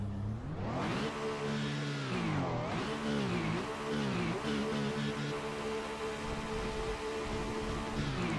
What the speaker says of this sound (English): let's do, as we always do, a little engine sound check